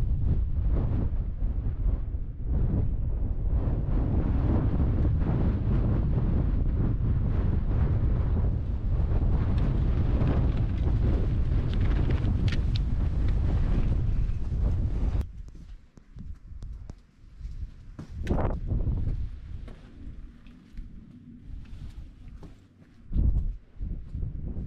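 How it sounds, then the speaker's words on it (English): Strong gusty wind buffets the microphone on an exposed Peak District hilltop in autumn, a loud continuous roar for about fifteen seconds before dropping abruptly to quieter, intermittent gusts and rustling. "let's crack on off up onto the low patch now and see what this crazy wind like is up there"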